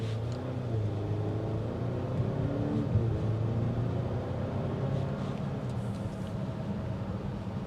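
A 2022 Volvo S90 sedan pulls away from a stop in the middle of the road, its engine rising in a steady droning rumble heard from inside the cabin, fairly loud and continuous with no talking.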